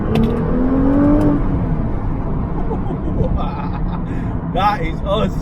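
Nissan GT-R R35 driven in normal manual mode, engine whirring and rising under acceleration, loud from inside the cabin, with a voice speaking over it.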